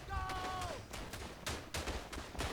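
Gunfire in the World War I shooter Verdun: several sharp, distant-sounding reports spaced irregularly across the moment, mixed with game ambience and a brief tonal whine near the start.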